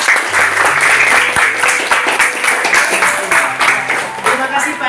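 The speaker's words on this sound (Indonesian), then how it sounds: "tepuk tangan buat Pandey" A class of students claps for a classmate after a presentation in a religion lesson, producing loud, dense applause with individual claps standing out, while a voice speaks over it.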